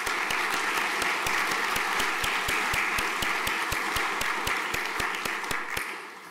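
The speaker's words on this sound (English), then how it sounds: "Round of applause. Well done." A room full of students and staff at a school chapel service gives a round of applause, dense and steady for about six seconds before it fades out.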